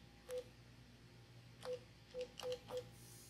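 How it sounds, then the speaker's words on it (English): Telephone keypad tones dial out a call: five short, clear beeps, one alone and then four in a quicker cluster, with faint background hum between them. "I'm gonna call him back."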